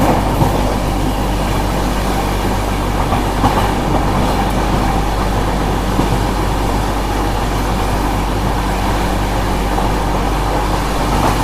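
The Kannur to Yeshwantpur Express runs steadily toward Bangalore, heard from inside the coach as a loud, continuous low rumble with rattling wheels and faint clickety-clack, and no voices.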